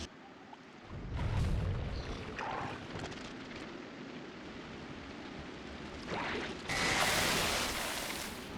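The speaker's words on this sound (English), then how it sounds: "The first artillery shot." Artillery shot in Factorio, a deep boom with a low rumble early on and a second blast near the end, over constant factory machinery noise.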